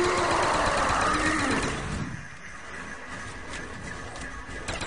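VR-11 wonder weapon fired in Call of Duty zombies on the Call of the Dead map: a loud, dense rushing burst for about two seconds that drops away into quieter, steady game noise, with no talk.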